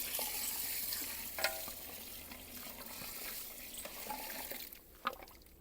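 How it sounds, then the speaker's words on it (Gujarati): Water is poured into a sizzling pot of mutton paya on a village stove, giving a soft hissing and bubbling wash with scattered clinks and stirring sounds, fairly quiet and close, without voices. "હવે આપણે પાણી અંદર એડ કરશું."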